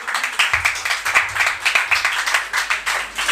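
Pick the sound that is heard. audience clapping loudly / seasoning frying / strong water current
audience clapping loudly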